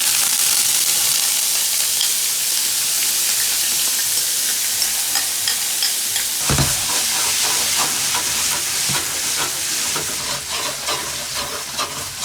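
Artichokes frying in hot olive oil in a pan give a steady, dense sizzle with a brief loud stir or clatter partway through, then continued crackling and small pops.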